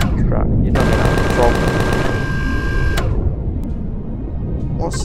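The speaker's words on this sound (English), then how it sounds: "chain guns on their own are weak as hell, but 6 of them in tandem and strafing around a target" Six chain guns fire together in a space sci-fi game, a rapid, evenly pulsed burst of mechanical gunfire lasting about two seconds over a constant loud game hum, followed by scattered clicks.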